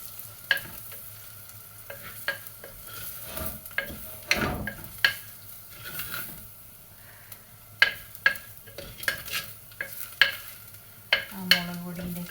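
Coriander powder is heated and stirred in a pan for a fish curry, giving a soft sizzle under repeated scraping and clinking strokes of a spoon, close and fairly quiet, with no talking.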